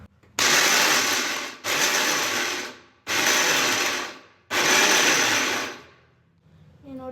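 A kitchen mixer grinder pulses roasted peanuts into a coarse powder: four loud, close whirring bursts, each lasting about a second or more, separated by short silences.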